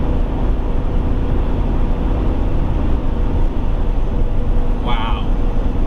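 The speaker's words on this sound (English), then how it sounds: "I hope you can hear the wind." Steady broadband wind and road roar inside a 2023 Toyota Tundra Limited towing a trailer at 65 mph, continuous and fairly loud, with a brief higher tone near the end.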